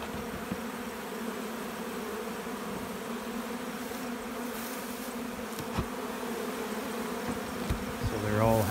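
Honey bees hum steadily around a late-season nuc hive, a close dense buzzing drone with individual bees passing near, swelling slightly toward the end.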